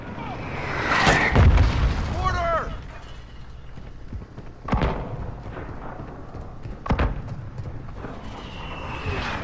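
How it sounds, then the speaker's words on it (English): Mortar shells landing in a military video game, with several booming explosions spread across the moment amid gunfire and mechanical battle noise, one big blast early and sharper hits later. "Mortar incoming from the south."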